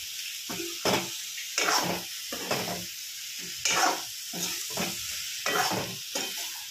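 Bitter gourd and eggplant with turmeric being stirred in a frying pan, a steady sizzle punctuated by regular scraping strokes of a spatula, close and clear.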